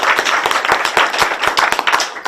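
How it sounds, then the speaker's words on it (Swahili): An audience claps at a gathering, a dense burst of sharp, quick hand claps from a group, loud and close, steady throughout. "tuhurire maitu makofi mega tafadhali"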